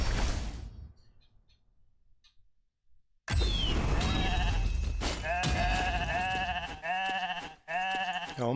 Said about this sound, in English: So many baying sheep.